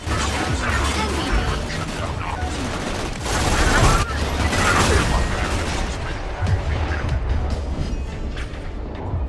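Chaotic Borderlands 2 combat as enemies blow themselves up next to a beacon: a dense, continuous wash of gunfire, blasts and crashing impacts, loud throughout with a swell in the middle, and voices faintly mixed in.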